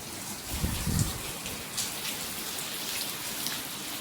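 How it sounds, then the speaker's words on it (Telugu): Heavy rain pours down steadily outside a door, a dense constant hiss with no pauses and no voices. "భయంకరంగా పడుతుంది వాన."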